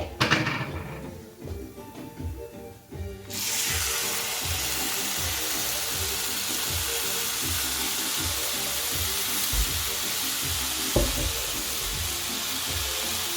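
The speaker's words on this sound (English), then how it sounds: "you want to stir everything around. Get the tomato and the rice" Rice with homemade tomato puree in a hot pan breaks into a sudden loud, steady hiss of sizzling a few seconds in, then keeps a constant frying roar throughout.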